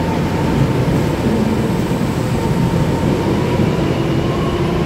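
EMU730+EMU729 local commuter train passing through Songshan station, a loud, steady rumble and rail roar filling the whole span without a break.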